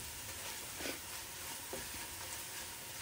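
Mango curry bubbling and sizzling in corn oil, a steady broad frying hiss throughout with a couple of soft stirring knocks, no voices.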